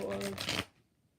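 Tarot cards riffle-shuffled in a quick burst of papery flutters lasting about half a second, loud and close, then dropping to near silence.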